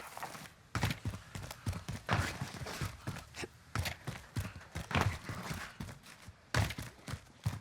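Footsteps in a shooter video game, a rapid series of hard thudding steps moving close by behind the listener, fairly loud and steady throughout with no talk.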